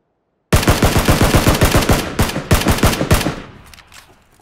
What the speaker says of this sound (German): Wurde von jemand anderem gesniped, währenddessen ich auf ihn geschossen habe.